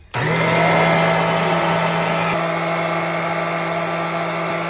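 A Uwant dust mite vacuum cleaner with UV light sterilization and 15,000 Pa suction switches on abruptly and runs at a steady, loud, high-pitched whine with a constant motor hum, close up and with no speech.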